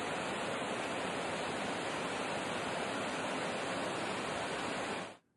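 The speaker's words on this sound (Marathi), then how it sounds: "सहस्त्रकुंड धबधब्याची ही दृश्य आहेत" Sahastrakund waterfall roars as a continuous, dense broadband rush of falling water, steady and loud throughout before cutting off abruptly at the end, with no voices.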